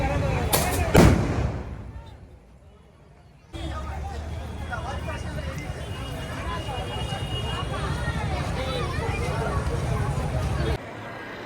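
A sharp firecracker bang goes off early on the road at Mariamman temple in Thanjavur, Tamil Nadu, then a long stretch of dense crackling bursts and pops with crowd noise, fairly close and loud.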